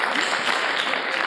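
A gala audience at the Scifest Africa 2016 opening claps together in a brief, dense burst of applause that sounds fairly close and full throughout.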